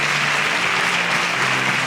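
Studio audience applause rings out for a contestant on a televised student competition, a loud continuous wash of many hands clapping with no break throughout.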